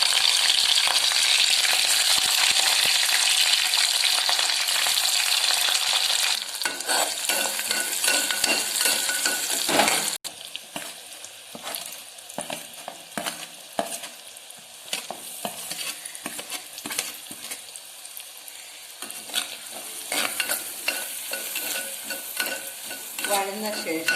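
Chilli items for beetroot pickle frying in coconut oil in a pot, a bright hissing sizzle that settles after the ingredients drop in, followed by frequent clattering stirs and scrapes against the metal.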